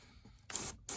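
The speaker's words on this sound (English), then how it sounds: "we're going to go ahead and start doing some airbrushing right in these areas where the Gorilla Glue is dried up" An airbrush sprays paint onto the repaired foam wing of an Eflite Viper 70mm EDF, two short bright hissing bursts near the mic separated by a brief pause, with quiet room noise before.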